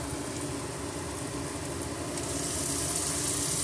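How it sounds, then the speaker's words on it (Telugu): Ridge gourd fries in hot oil, giving a steady, dense sizzle that stays loud and close throughout and grows slightly brighter near the end. "ఫస్ట్ బీరకాయ వేసుకుంటున్నాను."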